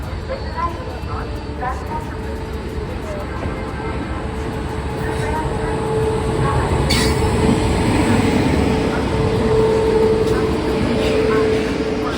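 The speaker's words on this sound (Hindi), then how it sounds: "130 किलोमीटर पर आवर लीड कर रहा है हमें WAP7 है सकरनी का।" Kota Janshatabdi Express, hauled by a WAP7 electric locomotive running at about 130 km/h, produces a steady loud rumble of wheels and rail that swells slightly midway, with a narrator talking over it throughout.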